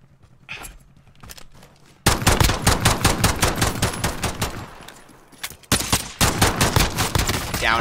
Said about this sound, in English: Out of ammo, switch to the pistol.